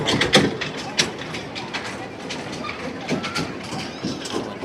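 A small children's amusement ride train rattles and clacks along amid a busy outdoor crowd at a tourism and trade fair, with scattered voices and clatter throughout.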